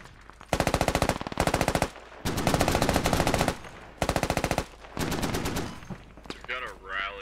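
Rapid automatic gunfire from a machine gun in the Squad military video game, coming in several loud sustained bursts with short pauses between them, a brief voice heard near the end.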